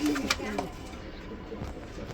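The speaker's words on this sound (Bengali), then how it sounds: "এখানে দেখাবো আপনাদেরকে আমি আরেকটা জোড়া কবুতর" A pair of cream-bar Rajshahi Giribaz pigeons coo softly in a brief, quiet burst against low background noise.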